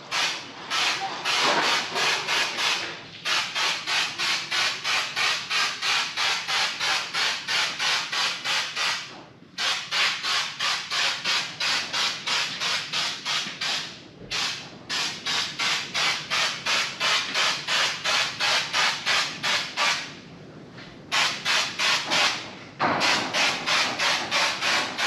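Bedliner is sprayed onto a UTV with a rapidly pulsing air spray gun, a loud, close hiss chattering in quick regular bursts, broken by short pauses between passes.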